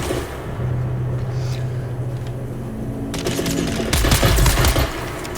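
Gunfire from a player's weapon in Dune Awakening, with loud, close bursts of rapid shots breaking out near the end over a low ambient hum and faint background sounds.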